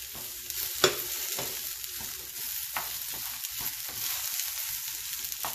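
Bacon and dried pepper frying in a hot pan give a faint continuous sizzle with a few soft stirring knocks, close but fairly quiet and with no talking.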